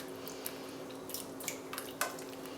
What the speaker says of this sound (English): Now you're going to knead and press the butter in the iced water.